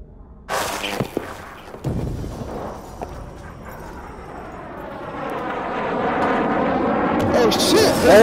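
An airplane in the VR video game The Forest rises from a low rumble into a loud, swelling engine roar that grows steadily nearer. Sharp thuds come early on, and excited voices shout over it.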